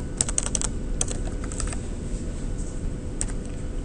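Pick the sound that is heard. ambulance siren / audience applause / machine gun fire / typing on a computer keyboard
typing on a computer keyboard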